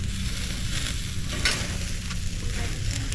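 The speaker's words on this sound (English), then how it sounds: "we're cooking burgers" Burgers frying on a camping stove, a steady close sizzle and crackle of fat in the pan, loud and continuous with a brief stir or scrape partway through, no voices.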